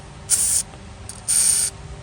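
Two hissing bursts of aerosol spray into a rear shock mount on a 2016-2021 Chevrolet Malibu, each about a third of a second, with a short pause between them, close and loud.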